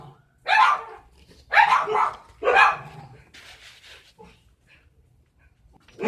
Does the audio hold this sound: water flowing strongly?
no